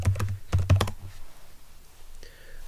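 A few sharp key presses on a computer keyboard entering a password, clustered near the start and then giving way to quiet room tone with a faint later sound.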